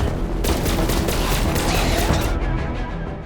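Dense, continuous gunfire from the video game Borderlands 3, loud and sustained with rapid overlapping shots and booming impacts that cut off abruptly near the end.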